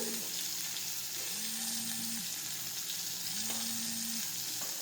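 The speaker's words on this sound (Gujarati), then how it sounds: "હવે આ રીતે આપણે ફરી પાછું સાતળી લઈશું." A homestyle tomato curry with turmeric, chutney, cumin and sugar sautés in a pan, giving a steady close sizzle with a recurring low humming tone in the background.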